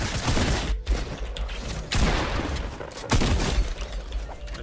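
Gunfire rattles during a Fortnite match, with loud bursts of shots in quick clusters and three sharp heavier hits spaced about a second apart, dense and close throughout.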